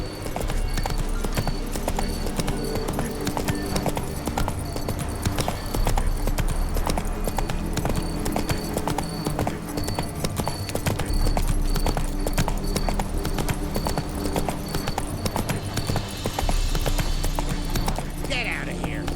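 Hooves of a horse named in the Witcher 3 video game, galloping in a steady, continuous clip-clop rhythm under a low throbbing hum of game music and ambience.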